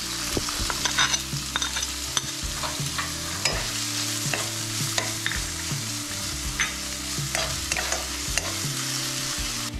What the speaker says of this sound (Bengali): তেল দেওয়ার পর যে কুচিয়ে রাখা আদা, পেঁয়াজ, রসুন, লঙ্কা সেগুলো এক এক করে দিয়ে দেব।